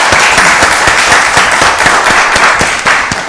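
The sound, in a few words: applause at county board meeting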